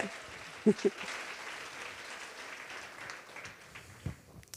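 Faint, distant applause from an audience at a women's school gathering during a book-signing break, a soft, steady patter with a couple of sharper thumps early on.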